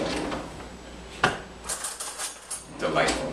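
Cutlery rattles and clinks as someone rummages through a kitchen drawer for a fork, a few sharp metallic clatters and scrapes at close range, with a voice speaking in the background.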